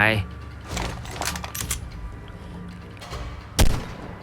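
Gunfire hits an Alpha T-Rex in the mobile game ARK Mobile, several sharp shots, some in quick clusters and one louder blast near the end, mixed with game effects.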